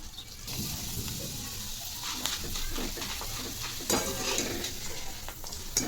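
Sun-dried shredded potato frying in hot oil, a steady close sizzle with scattered stirring clinks and scrapes throughout, no talking.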